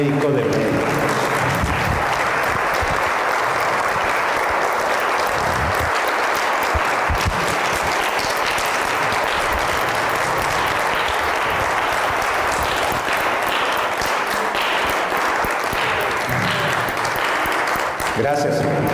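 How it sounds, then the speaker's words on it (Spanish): A church congregation breaks into sustained, loud applause that fills the room from start to finish, dense and steady with a few voices mixed in. "Levante un aplauso, hermano, a Cristo, al médico de médicos."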